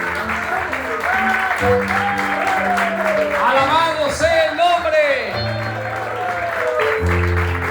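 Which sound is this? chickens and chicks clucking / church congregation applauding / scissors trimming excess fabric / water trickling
church congregation applauding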